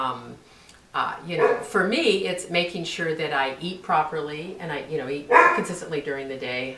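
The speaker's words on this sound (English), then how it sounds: "You may hear our doggy in the background." A dog barks and yips in the background while someone talks steadily over it, the dog's sounds mostly buried under her voice.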